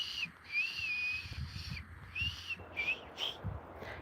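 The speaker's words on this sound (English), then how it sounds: "Takes a minute to get my whistle going." A person whistling with the lips outdoors in Northern Michigan, a series of wavering melodic phrases with brief gaps between, fairly close and clear over a faint background rumble.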